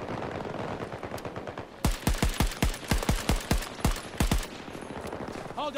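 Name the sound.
gunfire with heavy recoil in video game Battlefield 2042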